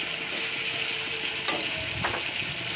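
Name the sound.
potatoes frying in oil in a pan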